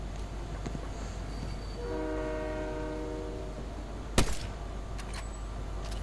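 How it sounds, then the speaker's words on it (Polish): A train in the video game Fortnite sounds a sustained, layered horn for over a second amid steady background rumble, followed moments later by a single sharp, loud bang. "Gdzie ten pociąg jedzie?"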